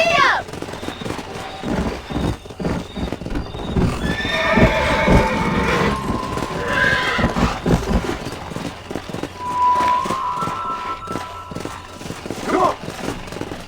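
A horse in Red Dead Redemption whinnies loudly several times over the rapid drumming of galloping hooves, with game effects and a brief voice mixed in.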